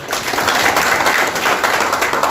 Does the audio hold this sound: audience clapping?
yes